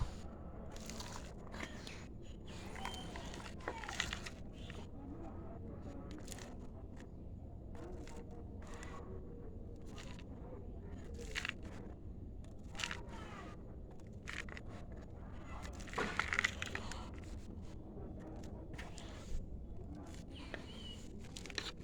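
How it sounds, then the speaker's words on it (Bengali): Soil being scooped and dropped into the bottom of a plant pot, a long run of scattered crunchy, gritty taps and rustles heard close up and fairly quiet. "ফার্স্টে একটু মাটি দিয়ে নেব তলায়"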